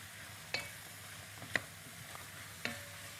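Sliced mushrooms fry quietly with onion in a pan, with a soft sizzle and a few sharp clicks of stirring at intervals, no talking.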